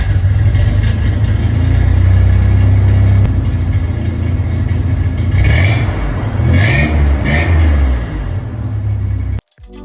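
A 1993 Toyota pickup engine revs through a custom 2.5-inch muffler exhaust, a deep steady rumble with several rising revs in the second half, loud and close, cutting off abruptly at the end.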